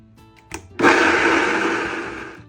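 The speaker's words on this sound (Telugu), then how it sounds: "ఇప్పుడు మనం బ్లెండ్ చేద్దాం." A kitchen blender whirs steadily as it purées carrot and tomato with half a glass of water, starting abruptly after a brief clunk and running loud and continuous to the end.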